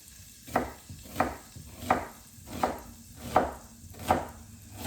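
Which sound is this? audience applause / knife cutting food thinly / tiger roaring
knife cutting food thinly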